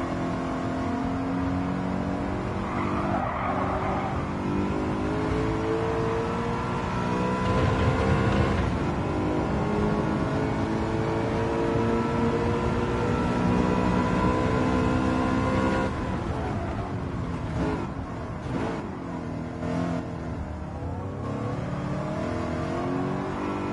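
BMW race car engines in Gran Turismo 7 howl steadily at high revs, a sustained tonal drone with gear shifts and revving changes throughout, no voices.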